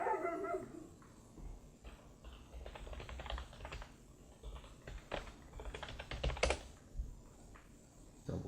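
Computer keyboard keys clack in an irregular run of close presses over a low background hum.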